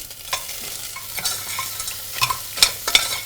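Shallots and langoustine shells sizzle and crackle in a saucepan, with spatula scrapes and stirring clicks close by.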